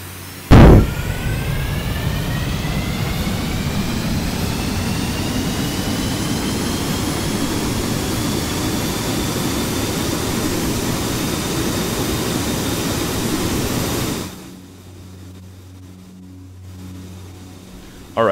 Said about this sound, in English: our jet engines are now idling at around 10 RPS